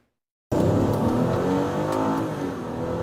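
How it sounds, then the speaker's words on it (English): A stolen car speeds through a high-speed police chase, its engine revving loud and close, a steady roar that follows a half-second of silence. "a canine officer can be seen chasing after a car that first sped past him"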